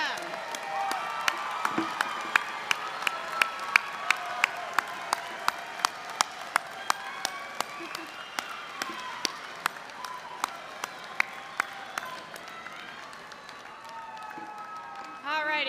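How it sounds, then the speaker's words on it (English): Graduates at a spring university commencement stand and clap for their families and guests, a sustained crowd applause with scattered cheers and whoops, and sharp individual claps standing out near the microphone. "So stand up, find your peeps, and clap for them."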